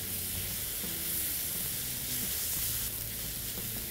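Tomatoes sautéing in a hot pan for a spicy mint chutney, a steady even sizzle and hiss at moderate loudness, heard close with no voices.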